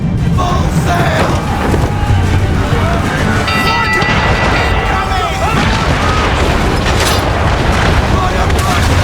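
Ship cannons booming in naval combat in Assassin's Creed 3, heavy continuous rumbling blasts over crashing sea and wind, with shouting voices mixed in throughout.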